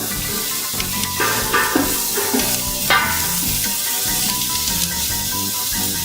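Minced garlic sizzles in a pot of gumbo as it is stirred, a steady bright frying hiss broken by soft scraping stirs and small clinks, close up and without talk.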